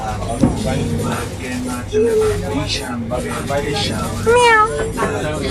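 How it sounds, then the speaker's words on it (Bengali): A cat meows a few times, rising and drawn out, close by, while people talk in the background. "বিড়াল"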